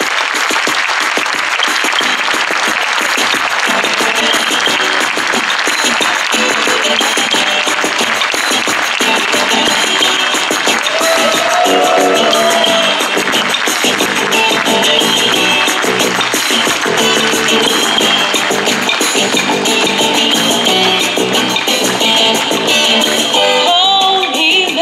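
Sustained applause from a large audience for Miss Côte d'Azur Oriane Sinacola, third runner-up at Miss France 2014, steady and loud for the full length with no voices over it.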